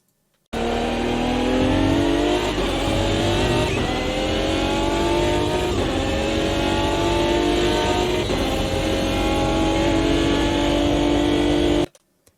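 Race car engine in the sim racing game Automobilista 2, a steady loud harmonic drone that climbs in pitch through repeated gear pulls, each shift marked by a brief dip, running continuously for about eleven seconds with no talk.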